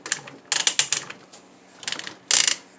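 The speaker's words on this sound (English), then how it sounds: "Now, he has really loud ratchets" Ratcheting joints on a Transformers Siege Titan class Omega Supreme toy give loud, sharp clicking bursts, several rapid runs of clicks separated by short pauses, close up with no talking.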